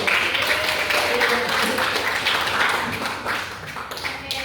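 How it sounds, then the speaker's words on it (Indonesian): Students clap together in a classroom during a guidance lesson, a dense, steady patter of many hands that fills the room and tapers slightly near the end, with some voices mixed in. "Tepuk tangan semuanya."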